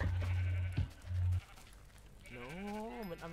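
Minecraft sheep bleat in a wavering, drawn-out cry near the end, after a few flat electronic tones from the game.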